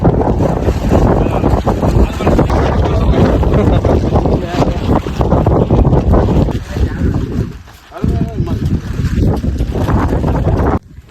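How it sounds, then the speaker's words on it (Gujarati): Strong wind buffets the microphone in loud, continuous broadband roaring gusts on a rainy outing at Junagadh, dipping briefly near the eight-second mark before surging again. "આપણને ઉડાડી નાખે એવો પવન આવે અત્યારે"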